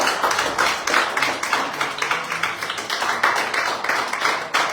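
A church congregation claps steadily and loudly together, a dense continuous burst of applause filling the room with no voices over it.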